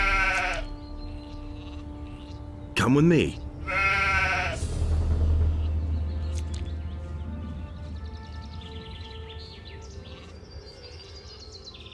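Betsy the sheep in Gothic 2 gives a short wavering bleat, then a second one, close and clear over pasture ambience with birds chirping; a voice speaks briefly at the start.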